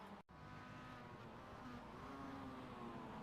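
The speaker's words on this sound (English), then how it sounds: "you can hear the car actually revving freely as well" Engine of a damaged Mazda MX-5 race car in the iRacing sim, revving freely as a loud, continuous droning whine after a brief dropout, with no talking.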